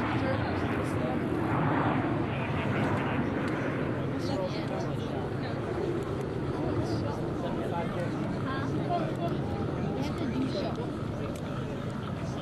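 US Navy Blue Angels F-18 jets at an airshow produce a loud, steady broadband roar throughout, with the crowd and commentary faintly audible beneath the continuous jet noise.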